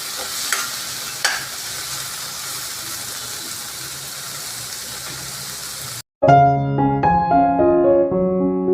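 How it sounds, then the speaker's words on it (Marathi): Onion and tomato sizzle in a pan while being stir-fried for a bitter gourd bharit, a soft steady frying hiss with a couple of sharp utensil clinks, then music takes over. "कांदा व्यवस्थित परतून घेतल्यानंतर त्याच्यानंतर टॉमॅटो टाकायचा"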